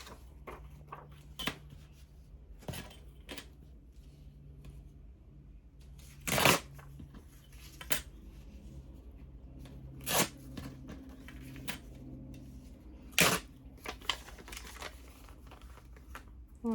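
Craft paper pieces being torn up by hand, a series of sharp separate ripping bursts spaced irregularly through a quiet room, close and clear with no talking.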